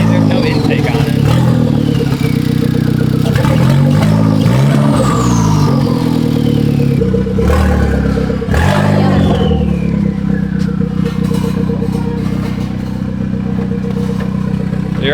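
A Hyundai Genesis Coupe engine runs with no intake fitted, a loud close rumble with rising and falling revs and some clatter throughout, while people talk over it.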